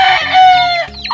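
A rooster crows once, a loud, drawn-out call rising and falling over about a second, close by with no talking.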